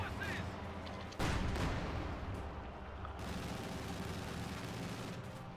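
Panzerwerfer rocket artillery barrage in Company of Heroes 2, a dense rumbling roar of launches and impacts that swells sharply after a second and keeps a steady, heavy wash of battle noise with faint voices underneath.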